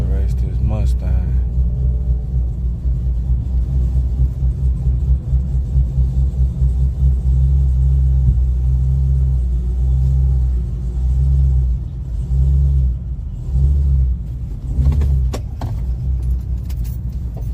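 A Ford Mustang with a 5.0 engine rumbles with a deep, steady low drone that swells slightly at times, while people talk nearby and keys jingle briefly.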